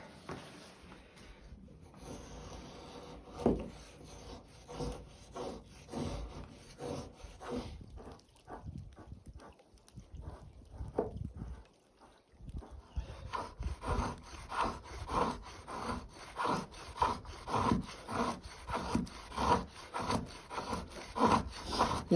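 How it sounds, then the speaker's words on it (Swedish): An EKA RTG-1 knife whittles wood in repeated scraping, rubbing strokes, close and fairly loud, with a steady rhythm that briefly pauses before resuming more strongly. "Tälja lite."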